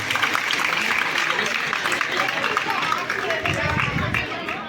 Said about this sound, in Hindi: इन सर के लिए एक बार जोरदार ताली बजनी चाहिए